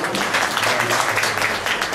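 A church congregation at a Bible dedication ceremony applauds a guest in brief, continuous clapping at moderate volume, with faint voices mixed in.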